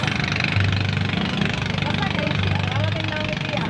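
A steady mid-pitched boat engine drones continuously with a throbbing idle rhythm, close and fairly loud, with indistinct voices mixed in, as the boat sets off at sea.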